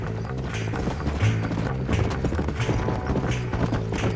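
Horse hooves clip-clop in Red Dead Redemption, a steady rhythmic trot of soft thuds running throughout, close and moderately loud beneath a dense bed of game music and ambience.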